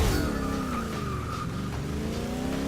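Original 1965 Mustang GT Coupe with a 271-horsepower engine accelerating hard from a standstill, a loud steady engine roar with rising harmonics and a brief tire squeal, close and continuous.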